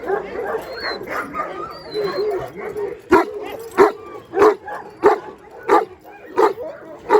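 A Kangal dog on a breeding farm barks in a steady series of loud, evenly spaced woofs, with whimpers and yips before them and other dogs and voices around.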